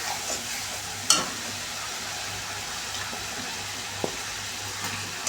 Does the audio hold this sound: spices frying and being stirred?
yes